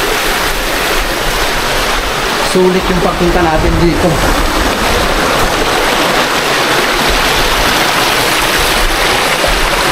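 A strong stream of water rushes loud and constant, drowning out other detail, while a person speaks briefly over it.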